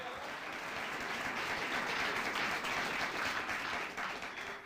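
A church congregation applauds during a sermon, a steady, dense wash of many hands clapping at moderate distance, rising slightly and then easing off, with no speech over it.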